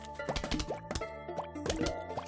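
Water plop sounds from the Plants vs Zombies video game, Brutal Mode, several bubbly plopping drops repeating in quick succession over a steady game soundtrack.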